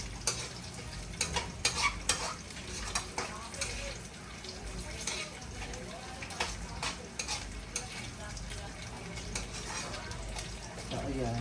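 Bitter gourd (ampalaya) frying in a pan while being stirred, a steady sizzle broken by scraping stir strokes, with the loudest clatter early on and a voice talking under it at times.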